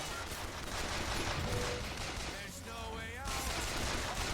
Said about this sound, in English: Why are they shooting at that thing?